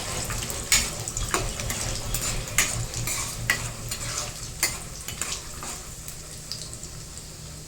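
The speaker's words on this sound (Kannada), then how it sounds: "ಮೊದಲಿದು ಶೇಂಗಾ ಫ್ರೈ ಆಗಲಿ" Peanuts fry in oil while being stirred, a constant sizzle punctuated by repeated scraping and clacking strokes of a ladle against the pan at a steady rhythm.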